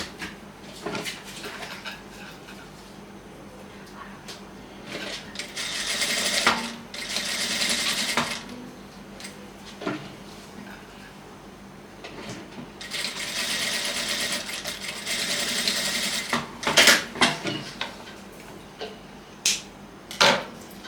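A sewing machine stitches a frock in repeated bursts of fast mechanical whirring, close and fairly loud, separated by short pauses and light handling knocks as the fabric is turned.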